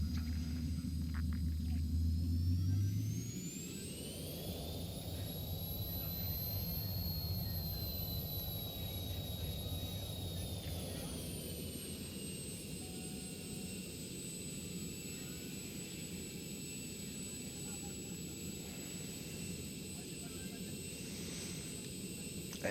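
Jet engines of a Vision Jet spooling up for a takeoff roll in the X-Plane 11 flight simulator, a low rumble that gives way after a few seconds to a steady whine with a rising high pitch, continuous and loud.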